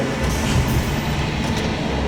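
Tram departing in the game DOOM (2016), a loud low rumble and rolling rail noise that holds steady throughout the short moment.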